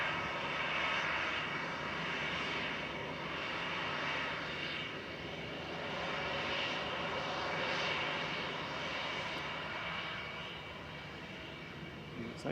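An EasyJet airliner taxiing in to park at Manchester Airport: a steady, broad jet engine roar heard from a distance that swells and fades gently and never stops.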